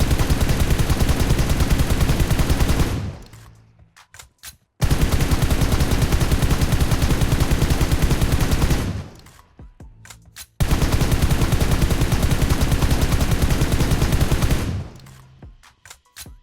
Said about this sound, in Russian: И начинаю стрелять.